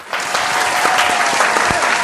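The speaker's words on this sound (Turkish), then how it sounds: "Merve'ye bir alkış." Steady applause from a small group greeting a hair model as she comes forward in a salon, dense and continuous throughout with sharper individual claps standing out.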